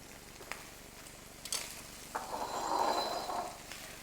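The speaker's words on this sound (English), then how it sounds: "Now go ahead, you can go and stir it and break it up" A setting egg with shrimp, radishes and tofu for pad thai is stirred and broken up in a hot pan. There are a few soft utensil taps, then a swelling sizzle, quiet and close.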